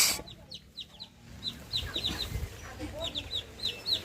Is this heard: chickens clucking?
yes